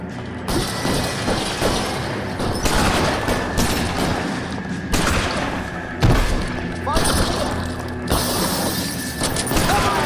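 Gunfire during a building shootout in the video game L.A. Noire, heard as dense bursts and thuds of shots with mechanical clatter, loud and continuous, mixed with voices talking over the action.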